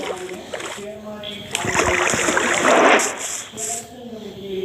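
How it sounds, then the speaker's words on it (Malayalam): Water gushing from a broken block in Minecraft, a burst of splashing, flowing game water rising in the middle of the stretch, surrounded by talk and a tonal background. "ഇത് പൊട്ടിച്ചെങ്ങനെ വെള്ളം വരുമോ? വെള്ളം വന്നു."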